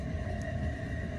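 Steady low rumble of a moving train in the video game The Final Station, a continuous mechanical drone with a faint hum throughout, heard alone without talk.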